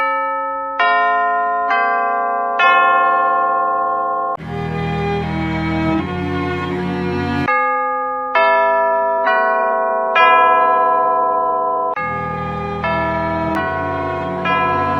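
A chiming-clock style melody opens an album, bell-like tones struck one after another in a slow descending pattern, each ringing out and decaying, with fuller chord-like chimes repeating in a regular cycle, loud and clear with no voices.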